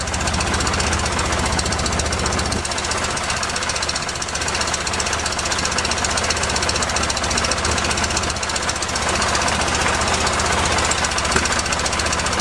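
A 1973 VW Super Beetle air-cooled engine with a Dellorto FRD 34B carburetor idles close and loud, a steady rapid knocking chatter that holds evenly throughout with no talk.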